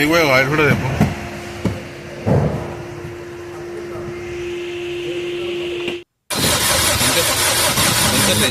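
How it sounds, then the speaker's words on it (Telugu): A freshly assembled Maruti Brezza diesel engine cranks with a whining starter, then settles into a steady tone; after a brief cut, it roars loudly and harshly in the workshop, with a voice talking over the start. "స్టార్ట్ చేస్తాము."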